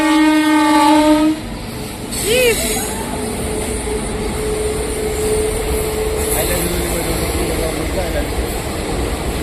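A train passes close by, its horn sounding at the start before a loud, sustained rolling rumble of rail cars, with faint voices underneath.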